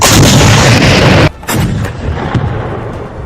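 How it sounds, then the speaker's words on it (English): An 88mm Flak 18 gun fires at a T-26 tank in a loud, sustained blast that cuts off sharply, followed by a shorter second boom and rumbling decay. "The first 88mm round hit at a range the T-26 crew could not have imagined was dangerous."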